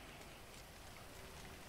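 Steady rain falls in the GTA 5 video game, a dense, even hiss of drops on hard surfaces that holds at a constant level from start to finish, with no voices over it.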